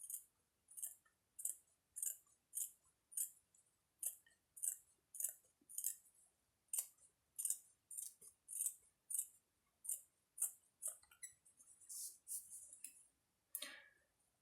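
Scissors snipping off excess material from a small Easter bunny headband for a doll or teddy bear, a quick close series of crisp, quiet, evenly rhythmic cuts with no talking.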